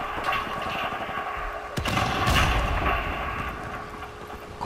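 Rifle fire in Call of Duty Modern Warfare Remastered, a team deathmatch on the Crossfire map with an M16A4 and M9, heard as a sharp crack followed by a loud, booming burst over continuous game ambience.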